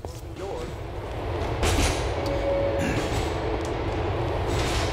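Train running in Grand Theft Auto IV, a steady rumbling rail roar with faint clatter that swells louder partway through, heard close and continuous, with some game ambience and possible voice underneath.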